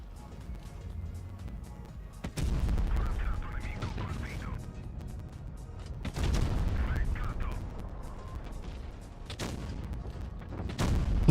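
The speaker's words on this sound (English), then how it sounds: "sounds like he's shooting someone" Tank cannon fire in a tank video game featuring the Carro 45t autoloader, two heavy booming blasts a few seconds apart, each followed by a rumbling decay, with muffled battle noise between.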